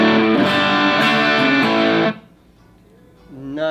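A crunchy, mildly overdriven electric guitar chord through an amp's crunch channel rings out loudly, then cuts off abruptly, followed by a quieter gap before another note starts.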